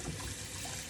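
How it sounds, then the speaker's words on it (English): Running water rinses surgical instruments after an alkaline detergent wash, a brief steady hiss and splash from a tap heard close and alone. "we're gonna go ahead and do that final rinse because of the alkaline detergent"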